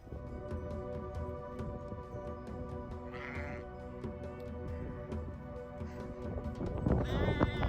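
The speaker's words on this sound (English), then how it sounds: "Sheep replaced cows, and it was fun just to walk among them, to meet different animals along the way" Sheep bleating on an Alpine hiking trail around Mont Blanc, several calls from the flock at moderate distance, with one louder, closer bleat near the end over a steady outdoor hum.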